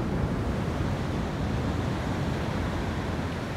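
Ocean surf breaks steadily at the Capbreton surf spot, a continuous broadband roar of waves with some wind buffeting, loud and close with no voices.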